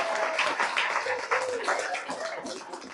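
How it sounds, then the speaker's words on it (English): Women clapping in celebration at an outdoor gathering of Meru County residents after a court ruling, a dense steady patter of hands mixed with chatter and voices throughout. "Women, you can do clap."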